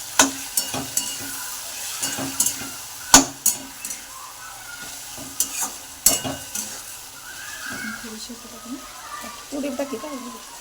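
Mutton stir-fried in a pan with a little fenugreek greens sizzles while a spatula strikes and scrapes the pan in loud, irregular clanks, with a voice talking toward the end.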